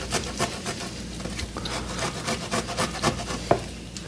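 Fresh ginger rubbed against a fine grater while making a hoisin sauce, giving a steady series of soft, close rasping scrapes in an irregular rhythm, with no talking.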